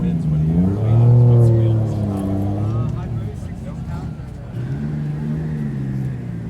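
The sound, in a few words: twin turbo Acura NSX NA2 engine revving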